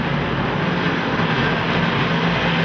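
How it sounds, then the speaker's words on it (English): Big block engine of a dirt track race car, a loud, steady, continuous roar held at close range throughout with no pauses and no talking. "It's a big block engine"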